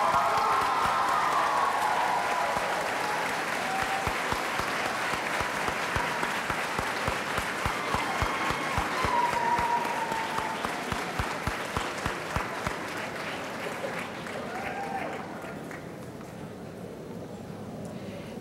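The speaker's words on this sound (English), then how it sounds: "express your appreciation for that support by applauding your loved ones here" Graduates at a university school of social work commencement applaud their loved ones, a broad crowd of clapping that swells loud and steady, then thins to scattered claps before fading near the end.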